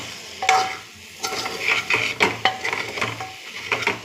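Mutton curry with tomato being stirred and fried in a pan, Telangana style: irregular scraping stirs and utensil clinks over a soft, steady sizzle, close up with no voices.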